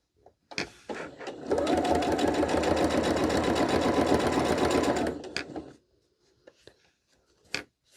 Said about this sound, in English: over at the sewing machine, we're going to line up these opposite corners.